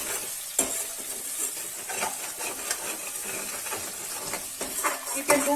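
Egg and vegetables stirred and fried over a high flame, with a steady sizzle and hiss broken by scraping spatula strokes, moderately close and without talk.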